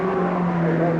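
A Vauxhall race car at the 1963 Armstrong 500 at Bathurst gives a steady, moderately loud engine drone for about a second, with no voices.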